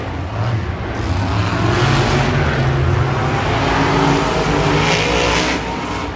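Monster trucks roar in a Monster Jam race at an Anaheim stadium event, their engines revving loud and continuous at a distance across the arena, a dense unbroken rumble that swells and dips slightly throughout.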